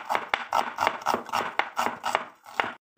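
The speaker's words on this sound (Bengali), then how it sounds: "আর এদিকে পেঁয়াজটাও কেটে নিচ্ছি" Onion being chopped with a knife on a board in a home kitchen, a steady run of about nine close, crisp thuds at an even rhythm, alone, ending in a brief pause.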